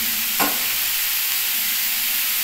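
Okra and potato-pointed gourd vegetables frying with salt and sugar in a pan, a steady close sizzle with one brief stir scrape near the start, no talk.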